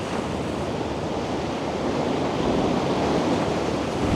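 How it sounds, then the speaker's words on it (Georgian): Big sea waves breaking on a shore along the Albanian coast, a continuous broadband surf roar that swells slightly louder toward the end, mixed with wind buffeting the microphone and no voices. "აი დიდი ტალღებია."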